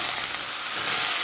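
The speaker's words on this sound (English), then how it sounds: "the onions and a little oil in my pan. I'm going to brown that" Onions browning in a little oil in a pan for a beef sweet potato stew, giving a steady, close, even sizzle and hiss that holds without a break for the whole moment, with no voices over it.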